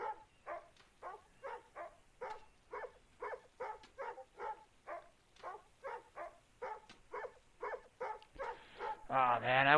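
A dog somewhere nearby barks over and over in an even, persistent rhythm, the barks faint and muffled, with a voice breaking in at the very end.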